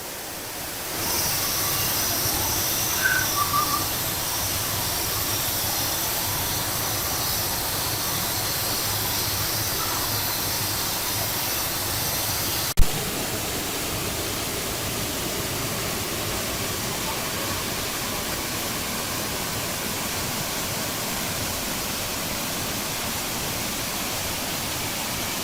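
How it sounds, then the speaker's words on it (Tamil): Suruli Falls in Theni pours down from the hills in a steady, broadband rush of water. The roar stays loud and unbroken, with faint voices briefly audible early on. "நேரா மலைகளுக்கு மேல இருந்து வர்ற அருவிங்க."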